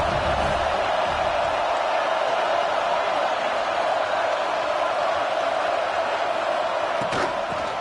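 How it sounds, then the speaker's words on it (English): A stadium crowd in a football video game roars as a steady, loud wall of cheering throughout, with a brief thump near the end. "This crowd ready to make its presence known."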